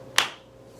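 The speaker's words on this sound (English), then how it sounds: "Get ready for the outro clap." A single sharp hand clap closes out a music arrangement, one crisp, bright strike standing alone in near silence with a short decaying tail.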